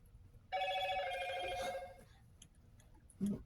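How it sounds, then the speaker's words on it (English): A phone text-message notification chime, a sustained ringing electronic tone lasting about a second and a half, followed moments later by a brief second blip, heard close in a quiet room. "Notification."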